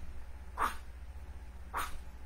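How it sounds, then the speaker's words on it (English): A dog at a campsite gives two short, sharp barks about a second apart, fairly close, over a low steady hum. "Are you barking at the TV?"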